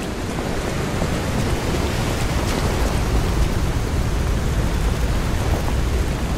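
Heavy, continuous rain in the video game Lies of P, a dense broadband hiss with a faint low rumble beneath, steady and unbroken throughout.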